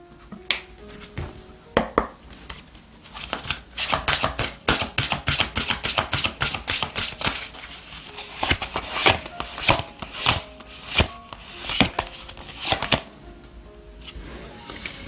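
Oracle cards being shuffled for a weekly tarot reading: a long run of quick, crisp riffling flutters and taps, close and fairly loud, in uneven bursts with short pauses and no talking.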